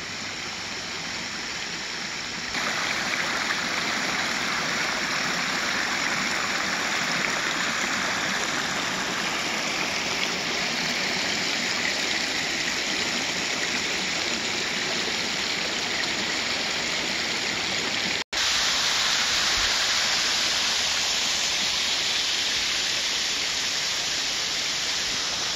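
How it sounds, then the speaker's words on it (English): Stone Creek flows swollen after morning storms, a steady, close rush of water that runs without a break for the whole stretch and has no voices over it. "And this is Stone Creek, which seems pretty healthy from the storms that we had this morning."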